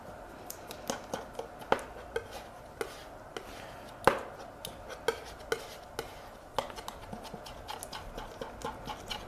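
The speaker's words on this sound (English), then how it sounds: "Mix this all together." Blue, white and red paint being mixed together, giving a steady series of sharp, close taps and scrapes at a quick, uneven rhythm with no talking.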